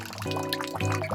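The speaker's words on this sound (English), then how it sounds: "Pour in 3 eggs." Three eggs are poured into a bowl, giving a short close liquid slosh and glug that swells twice in quick succession.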